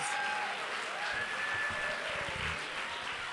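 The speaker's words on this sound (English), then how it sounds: "Applaud the poets, not the silly scores." Audience applause for poets at a poetry slam semifinal, a fairly faint, steady wash of clapping with a few louder claps near the end.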